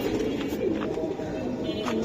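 Silver Giribaz pigeons in a loft coo continuously at close range, a soft throaty warble with repeated rolling notes, and no talking.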